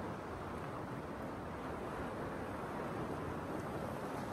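Ocean waves breaking on a shore at sunset: a continuous, even wash of surf, soft and distant, with a windy hiss and no voices.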